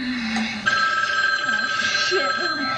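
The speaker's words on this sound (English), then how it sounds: "the phone keeps ringing" A telephone rings with a bright, sustained electronic tone that starts partway in and carries on, with a voice talking beneath it.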